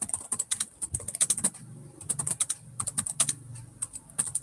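Typing on a computer keyboard while entering text into a Laravel web form: quick clusters of crisp key clicks with brief pauses between bursts, close and fairly quiet, no voices.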